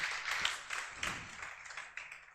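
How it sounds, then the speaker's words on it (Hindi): At a Teacher's Day celebration, an audience claps to welcome the teachers: a soft, distant wash of many hands applauding, steady and low in level, with no speech over it. "एक बार सभी गुरुजन का ताली बजाकर स्वागत करें।"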